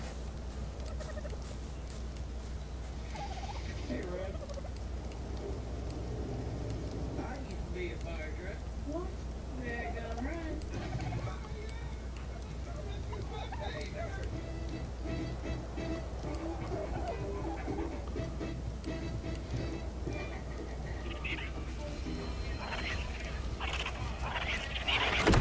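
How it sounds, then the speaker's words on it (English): Birds squawk and gobble in ARK: Survival Evolved, scattered calls running steadily at a moderate distance beneath a person talking throughout. "something's aggroing the birds again"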